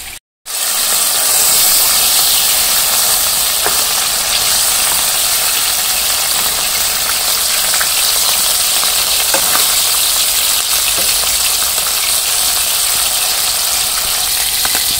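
Fish coated in salt and turmeric frying in oil in a wok gives a loud, steady close sizzle and hiss with occasional pops and stirring, after a brief silent start.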